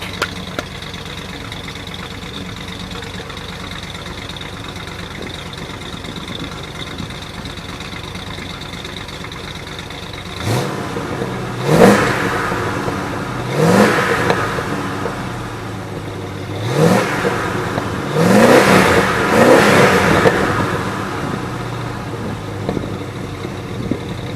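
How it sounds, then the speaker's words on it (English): A 1966 Ford F100 pickup truck engine idles steadily, then revs up several times in quick rising bursts, each surge falling back to a low rumble. "I revved it up a little bit for you guys."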